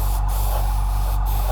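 Spray paint hisses in a steady, close mist onto a 1/48 Hasegawa F/A-18E Super Hornet model, an unbroken airy rush with no speech.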